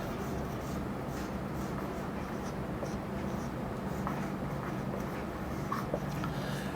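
Chalk or marker writing on a board during a physics lecture on capacitors: soft, continuous scratchy strokes in a quiet room, faint and steady, with occasional low speech.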